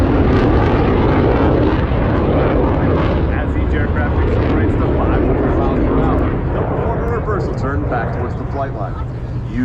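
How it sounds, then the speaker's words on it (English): U.S. Navy Blue Angels jets at the Dayton airshow, a loud sustained roar that swells and slowly sweeps past overhead, with an announcer talking over the engine noise. "You should be able to follow their individual smoke trails as all four aircraft converge on center point with maximum closure and minimum separation."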